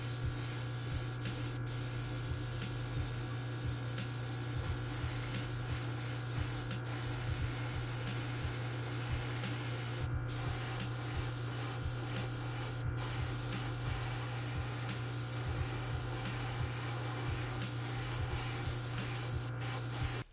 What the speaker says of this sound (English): I'll mask coat the hood.